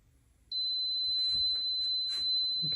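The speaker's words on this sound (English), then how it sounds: "you get a long, obnoxious beep when it's done." A small portable tumbler heat press signals the end of its cycle with one long, steady electronic beep that holds at a single pitch for more than two seconds, loud and close, while faint handling noises sound underneath.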